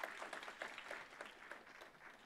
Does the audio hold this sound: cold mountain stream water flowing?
no